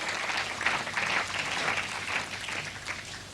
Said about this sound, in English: muted applause from the big German following here inside the bowling centre